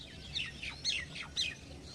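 Faint high chirps from small birds repeat in quick bursts over a low steady background hum.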